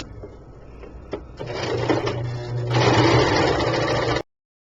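A sewing machine stitches the sides of a pillow in short bursts that grow into a steady, close whirring run before stopping abruptly.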